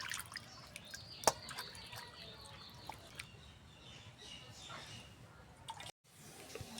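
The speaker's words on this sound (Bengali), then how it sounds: "আমরা মাছগুলোকে ধুয়ে পরিষ্কার করে নিচ্ছি।" Water splashes and drips as cut pieces of grass carp are washed by hand, with scattered trickles and small clinks over a quiet background, briefly cutting out near the end.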